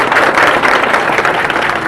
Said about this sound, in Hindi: जोरदार ताली बजाइए बच्चों के